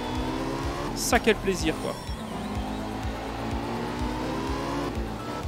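Porsche rally car in the racing game Art of Rally, a steady engine drone with rhythmic gear shifts and a brief burst of tire squeal, under someone talking throughout.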